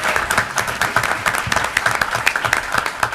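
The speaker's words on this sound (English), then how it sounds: "Let's give them a round of applause." Applause at a city council meeting in Dearborn, a dense, steady patter of many hands clapping from a nearby room audience, continuous throughout with no talk over it.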